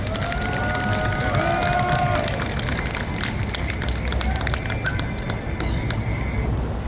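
An outdoor crowd at a Sewol ferry disaster memorial cultural event in Daejeon gives warm applause, a dense, steady clapping with some cheering that lasts several seconds, with a voice faintly heard early on.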